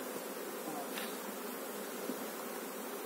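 Honey bees of a local strain, many of them young, buzz steadily at a hive frame holding stores and emerged brood, a dense, even hum close to the microphone with no talking.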